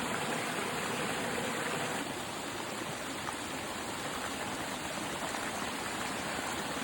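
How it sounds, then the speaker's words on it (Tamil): A stream on a hiking trail in Penang rushes steadily and evenly, a dense, continuous wash of flowing water close by, with no voices. "தண்ணி ஓடுற சத்தம் எவ்வளோ நல்லா இருக்கு தெரியுமா?"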